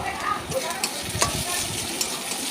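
Crushed garlic, onion and salt stir-fried in a pan for water spinach, a loud steady sizzle with scraping stir strokes and small crackles throughout.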